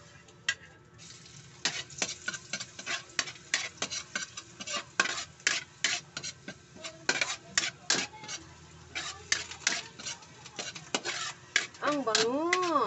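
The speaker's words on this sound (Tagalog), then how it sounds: "Ilalagay po natin ang ating bawang." Garlic dropped into hot oil and sautéed in a pan while cooking escabeche with tilapia, with steady sizzling under sharp, repeated clinks and scrapes of a utensil stirring against the pan, close and fairly loud.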